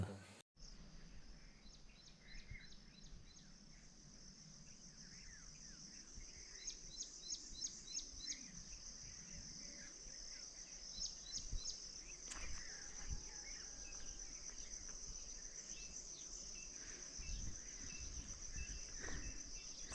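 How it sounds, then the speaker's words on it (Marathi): Morning birds chirp in short repeated bursts over a steady insect trill, with a soft outdoor hum underneath and no talking. "पक्ष्यांचा किलबिलाट,"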